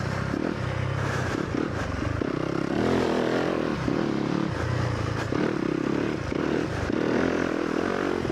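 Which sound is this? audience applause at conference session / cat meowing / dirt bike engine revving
dirt bike engine revving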